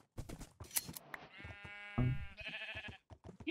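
Sheep in a blocky sandbox game bleat during shearing, drawn-out wavering cries overlapping with short clicks and game noises, up close and fairly loud.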